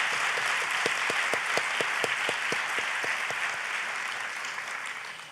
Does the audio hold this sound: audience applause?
yes